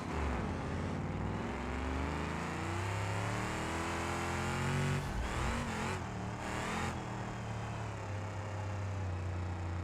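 A powerful car engine revs and accelerates steadily during a racing video game, a loud sustained engine drone with rising pitch that briefly dips midway before climbing again, with no talking.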